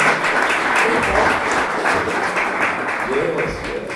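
A crowd at an awards breakfast applauds a high school head coach, a loud, sustained wash of clapping that fades slightly near the end.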